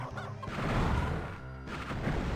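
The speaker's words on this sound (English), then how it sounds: "Chicken!" A chicken in the video game Heretic clucks and squawks over dense game noise, a busy, loud burst of fowl calls with no speech.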